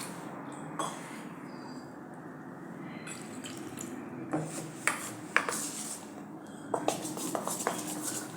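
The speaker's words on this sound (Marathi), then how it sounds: "यात अजून जरा पाणी घालते।" A little water is added to green peas dosa batter in a home kitchen, with soft drips and small splashes that come in a few quiet, scattered bursts over a low background hum.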